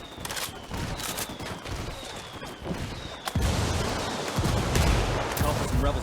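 Loud, continuous gunfire in the Ghost Recon Wildlands video game, dense bursts of automatic rifle shots, with heavier booms of rebel mortar fire joining partway through and building into a sustained barrage.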